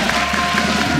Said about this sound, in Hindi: एक बार पिक्चर के लिए जोरदार ताली हो जाए